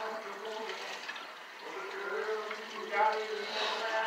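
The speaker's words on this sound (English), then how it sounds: "run the water over your head" Water runs steadily from a tap with a soft, continuous rushing that swells slightly near the end, while people talk faintly in the background.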